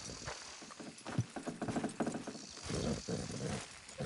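Horses' hooves clip-clopping at a walk, a quiet, uneven patter of hoofbeats with occasional louder knocks, fairly distant and steady.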